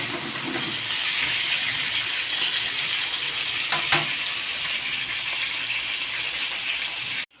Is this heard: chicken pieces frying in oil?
yes